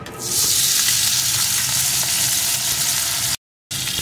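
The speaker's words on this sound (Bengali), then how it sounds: "এখন এর ভিতরে আমি টুকরো করে কেটে রাখা একটা আলু দিয়ে দেব," Potato pieces frying in hot mustard oil in a wok, a loud continuous sizzle close by that stays even for several seconds before a brief cut, with no voices.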